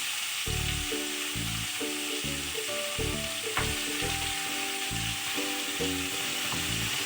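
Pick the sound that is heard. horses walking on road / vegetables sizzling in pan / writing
vegetables sizzling in pan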